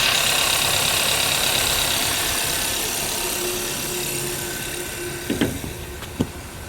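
A 2013 Hyundai Santa Fe with a no-power complaint idles steadily nearby, a low even engine drone with faint mechanical ticking and a couple of small knocks near the end, no speech.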